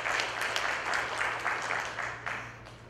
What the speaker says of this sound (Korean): 우리 호산나 성가대 아주 아름다운 찬양, 은혜스러운 찬양을 불러주셨는데 우리 한번 큰 박수 보내드리겠습니다.